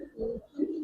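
Pigeons cooing in a loft in Old Dhaka, two soft low coos close together, near and alone with no talk.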